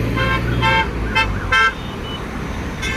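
A vehicle approaching with repeated short horn toots over a steady low road rumble, serving as a sound effect in a Hindi horror story about a highway bus stop.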